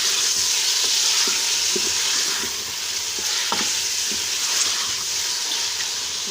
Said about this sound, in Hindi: इसके साथ ही हम लहसुन अदरक भी डाल देंगे और फिर इसमें चम्मच चलाते हैं आहिस्ता से ताकि चिकन फ्राई हो जाए अच्छी तरह से।